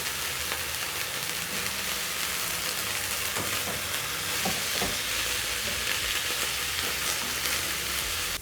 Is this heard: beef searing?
yes